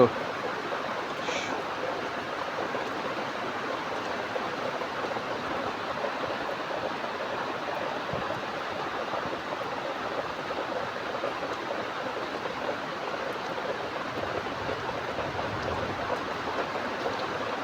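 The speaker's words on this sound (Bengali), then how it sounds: "দেখছেন আপনারা বৃষ্টি" Steady, even rain hisses without pause in Noakhali, Bangladesh, a dense wash of sound at moderate loudness.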